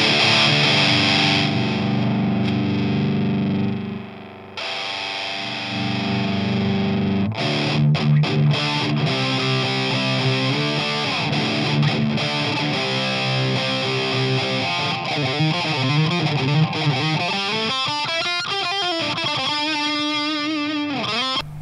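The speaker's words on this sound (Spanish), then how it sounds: "Tiene harta distorsión, harta ganancia." An electric guitar plays through a DOD Metal X FX70 distortion pedal with the distortion set low, giving a buzzing, saturated tone. Sustained chords give way to quicker picked notes and bends, with no talk.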